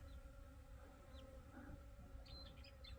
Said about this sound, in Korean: 가만히 들어보면 벌 날개짓 하는 소리가 들립니다